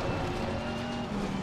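A race car in Assetto Corsa Competizione roars past, its engine a steady, loud drone that holds through the whole moment with no voices over it.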